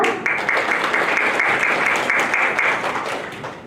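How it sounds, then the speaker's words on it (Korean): Sustained audience applause fills a Korean blockchain startup conference hall, a dense steady wash of many hands clapping for several seconds before gradually thinning toward the end. "여러분 큰 박수 부탁드립니다"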